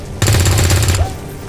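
A gunshot in the XCOM 2 video game: a sudden loud burst of rapid, rattling fire that holds for under a second, then a brief whooshing tail, with no voices.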